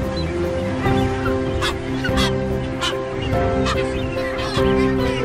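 A sooty tern breeding colony calling incessantly, a dense, loud wall of overlapping high-pitched cries with sharper calls standing out every second or so and no talk.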